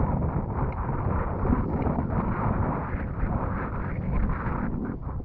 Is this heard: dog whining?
no